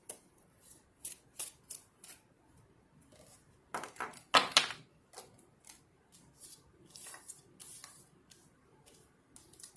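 Tarot cards being shuffled at a reading table: bursts of crisp riffling and slapping flutters spaced through the clip, with one louder, denser burst midway, close and fairly quiet, with no talking.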